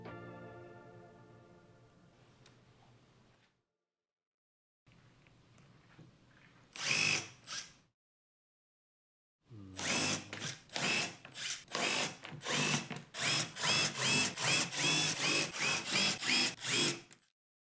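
A power drill with a center drill bit bores into a wooden board: a faint motor whir first, then loud, close, repeated short drilling bursts in a quick stuttering rhythm.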